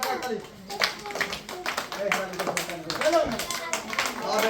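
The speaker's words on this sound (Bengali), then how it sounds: "সবাই তার জন্য করতালি হয়ে যাক" Rapid clapping from a group during a children's blindfold balloon-popping game, a busy scatter of sharp hand claps mixed with lively voices and chatter throughout.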